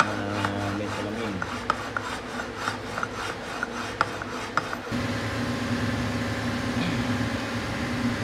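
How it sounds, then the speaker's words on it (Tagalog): Steady rasping scrape of sandpaper laid on glass, leveling a part from a Yamaha GP 1800 watercraft, with rhythmic strokes in the first half giving way to a smoother continuous rub, close by. "papantayin na lang natin siya dito sa ating liha na may salamin"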